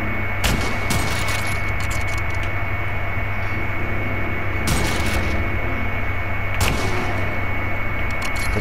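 Gunfire in the video game The Last of Us Part II, with three sharp, loud shots spaced a couple of seconds apart over a steady droning background hum.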